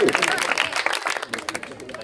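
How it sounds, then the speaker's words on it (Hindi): Children clap in applause at a prize ceremony for talent exam winners, a dense crowd of claps close by that thins and turns patchy toward the end. "शाबाश बच्चों ताली बजाओ"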